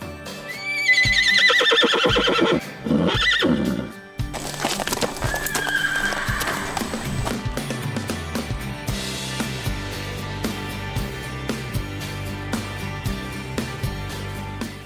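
Horses neigh and whinny loudly several times on a large ranch, with hooves clip-clopping and shuffling nearby between the calls.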